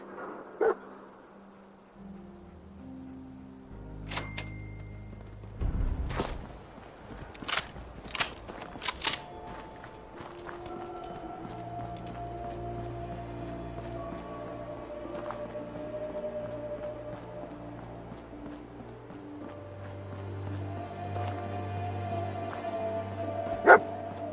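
Dogmeat, the dog companion in the video game Fallout 4, gives a few short barks and whimpers over a game soundtrack of steady tones and clicks.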